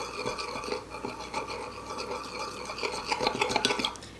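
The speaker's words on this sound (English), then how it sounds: "I'm gonna get a clean spoon to stir this around." A spoon stirs very hot homemade first aid salve, scraping and rubbing against the container in a steady close rhythm that grows a little louder toward the end.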